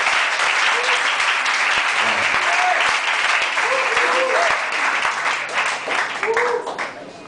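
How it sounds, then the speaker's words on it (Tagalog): A church congregation claps loudly and continuously, a dense crowd of hands with scattered whoops and cheers mixed in, tapering off near the end while voices carry over it. "Pwede ko natin bigyan ng malakas na palakpak."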